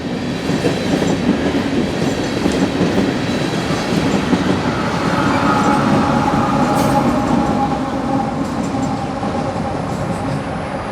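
Canadian National freight train rolling past in Louisiana, a loud continuous rumble of wheels and cars with faint clickety-clack, steady and close throughout with no talking.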